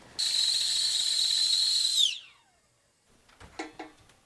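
A shrill, steady whistle from a kettle sounds for about two seconds, then drops off and fades, followed by quiet knocking.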